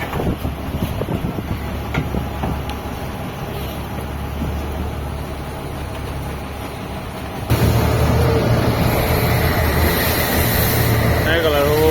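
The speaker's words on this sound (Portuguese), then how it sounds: "O vento tá duro, galera, só batendo de lado aqui, ó." Strong wind buffets a boat at sea, a constant rushing roar over a low engine rumble that grows louder and harsher partway through.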